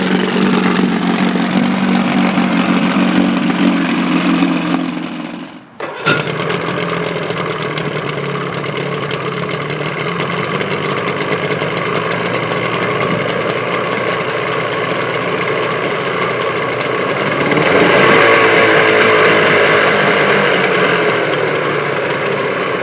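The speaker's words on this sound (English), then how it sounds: "So shifting works too, that's really good." A 1975 Evinrude 40 HP outboard engine running at a steady loud drone, briefly dipping as it is shifted, then resuming and revving slightly higher near the end, with no talking.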